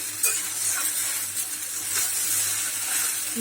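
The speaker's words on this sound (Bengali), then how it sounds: "পাঁচ থেকে দশ মিনিট আর একটু ভাজতে হবে" Soybean chowmein fries in a pan with spices, a steady close hiss of sizzling with faint scraping and light clinks of a utensil against the pan, no voices over it.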